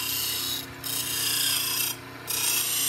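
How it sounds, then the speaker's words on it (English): A spindle gouge's heel pressed against a bench grinding wheel, the tool resting on fingers, makes a steady close rasping grind with two brief pauses where the steel lifts off the wheel. "grind that heel off."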